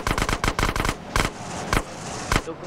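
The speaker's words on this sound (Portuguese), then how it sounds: "Ah, tá indo dando os tiros." A rapid burst of gunfire in the video game MTA San Andreas, then a few single shots spaced apart, sharp and loud with no talking.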